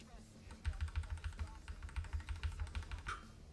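Rapid keys are pressed repeatedly on a computer keyboard during a trading sequence in a video game, producing a fast, regular run of close, crisp taps that continues for several seconds.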